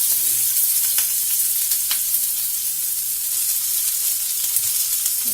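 Sliced onions frying in hot oil with cumin seeds, a close, steady sizzle running throughout with a few faint stirring clicks.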